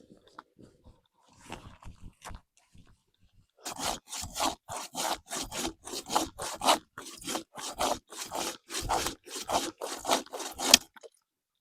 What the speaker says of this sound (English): So now I ideally like to cut down dead trees